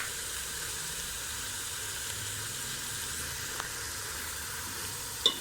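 Finely sliced tomatoes dropped into a hot pan for a dhaba-style white beans (lobia) masala, giving a steady, even sizzle and frying hiss, close and unbroken, with a faint clink near the end.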